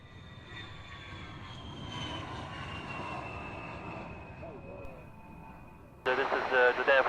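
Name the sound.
Air Force aircraft engine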